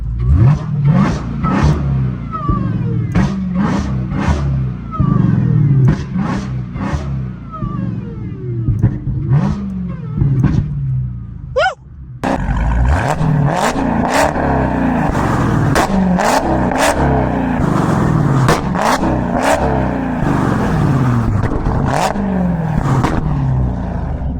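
A Dodge Hellcat parked and revving in neutral, loud and close, with a series of sharp throttle blips and bursts, then a sustained roaring, rumbling idle punctuated by repeated quick revs.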